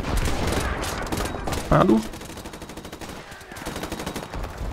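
A brief burst of gunfire from the video game Call of Duty: Modern Warfare Remastered cracks out amid game audio, with someone talking before and after it.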